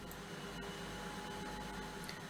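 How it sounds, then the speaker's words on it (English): A Bosch Serie 4 VarioPerfect washing machine on its spin cycle gives a steady, quiet whirring hum with a constant low drone and soft mechanical hiss. "This means that the washing machine is now doing the spin cycle."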